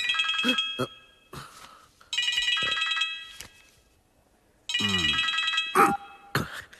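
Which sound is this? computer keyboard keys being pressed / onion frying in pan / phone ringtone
phone ringtone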